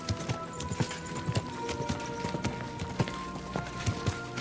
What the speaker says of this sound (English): with the way the horse rides sometimes, I wonder if Pebbles is alcoholic